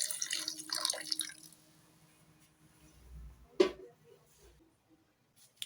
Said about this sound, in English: I'm going to be adding little water.